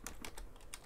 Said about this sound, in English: I'm going to type in make